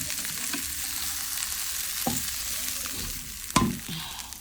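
Rohu fish and chili sautéing in a pan, a soft steady sizzle broken by a few sharp clatters of stirring, close and without talk.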